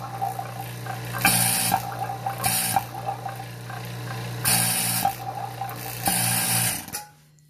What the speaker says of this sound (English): some of those strange sounds, it's always associated with vacuum pumps, particularly these rotary vane ones